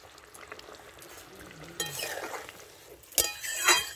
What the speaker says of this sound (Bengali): ওই যে ফুটে গেছে আমাদের তরকারি